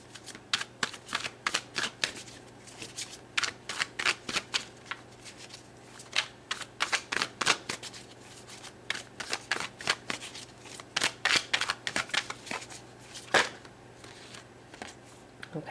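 Tarot deck being shuffled by hand, a steady run of close, crisp riffling and card slaps in irregular bursts for the whole stretch, with no voice over it.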